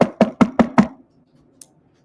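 Five sharp knocks on a door in a quick, even sequence, loud and close, followed by near silence and one faint click.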